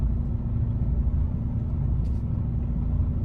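A car passes close by a parked truck on an Italian road, its steady low engine rumble and tyre noise filling the scene, loud and continuous with no talk.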